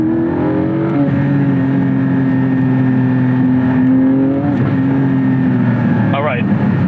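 Engine of a Porsche 987.2 Boxster Spyder driven hard on a road, a loud steady drone that blips upward during heel-toe downshifts, close up and continuous, with a voice speaking over it.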